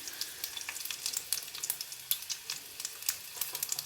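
Cumin and mustard seeds fry in hot oil as a tempering for cucumber dal, giving a close, continuous crackling sizzle with rapid popping bursts throughout.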